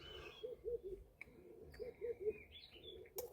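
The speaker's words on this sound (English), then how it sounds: "Lovely hearing the birds." Birds calling outdoors at a glamping camp shelter, soft repeated cooing notes in short groups under faint higher chirps and a brief whistled call, quiet and somewhat distant.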